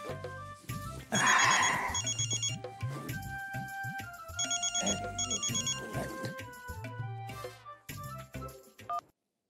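A telephone rings repeatedly in bursts of bright, trilling bell tones, loud and close, with a musical background underneath and no talking.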